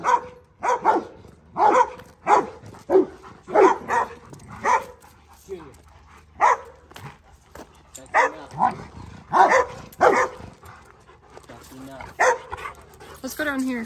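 Puppy on a small farm barking in short bursts with occasional whimpers, close by, mixed with a person calling and talking outdoors.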